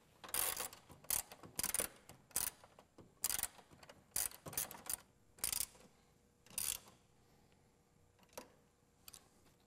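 Ratchet wrench tightening the three stock mounting bolts of a K&N cold air intake on a 2007-11 Jeep Wrangler JK, quick close clicking bursts in irregular spurts with short pauses between, fading to a few isolated clicks near the end.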